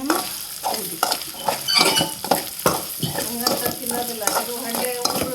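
Paneer frying in a pan with masala, sizzling steadily while a spatula stirs and scrapes in repeated strokes against the metal, close and fairly loud with no talking.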